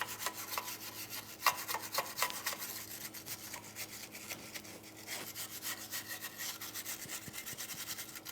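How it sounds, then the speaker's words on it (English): Wire brush scrubbing the control arm mounting points on a 1999-2006 Chevrolet Silverado 1500 during a front coil spring job: a steady, close, continuous rasping scrub of bristles on metal with uneven strokes, heard alone. "You can use a wire brush."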